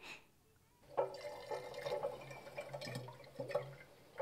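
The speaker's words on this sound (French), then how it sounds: "Et tu remplis une bouteille." Water from a tap pours into a bottle with a gurgling, rising sound and uneven splashes, close by.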